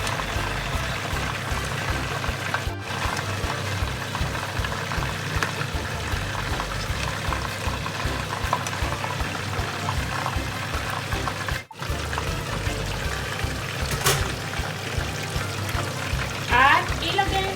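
Coconut milk (gata) pours steadily into a simmering pot of pinakbet, a loud continuous liquid rush over kitchen noise.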